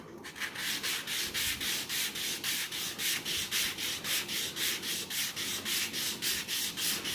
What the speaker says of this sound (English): I'm going to sand this down so it's exactly the same height as that one.